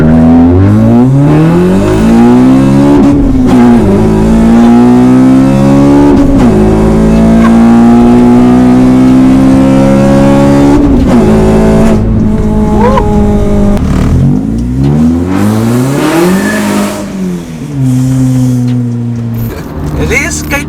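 A Honda Civic Type R, K20 engine, revs and pulls hard through repeated gear changes, the loud raw engine note rising and dropping in sweeps, close and continuous for about twenty seconds.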